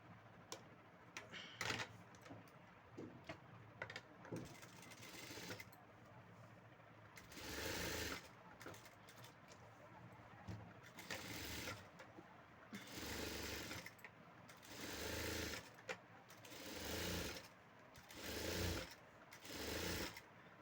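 Stitching blouse piping on a sewing machine produces repeated short bursts of fast mechanical chatter separated by quiet gaps, close but low in level, with no voices.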